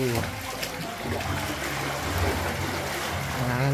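A strong current of water rushes through Tayangban Cave in Siargao with a steady, dense roar, while people talk over it nearby.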